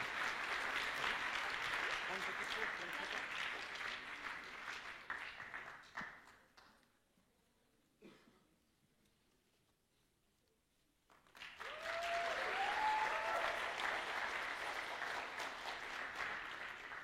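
Audience at a cosplay contest at the Swiss Fantasy Show 2018 gives a contestant a loud round of applause, which fades to near silence and then swells again.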